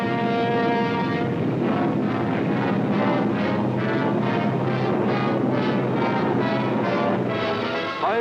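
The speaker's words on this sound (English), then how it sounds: "German bombers and Messerschmitt fighters roared over the English coast" Wartime German bombers and Messerschmitt fighters roar overhead above the English coast, a loud, dense drone of massed aircraft engines pulsing steadily throughout.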